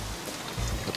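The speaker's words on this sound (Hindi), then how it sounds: "यहाँ इतनी बरसात हो रही है" Heavy rain pours steadily as a dense, even hiss with low rumbling underneath, close and constant, with no voices.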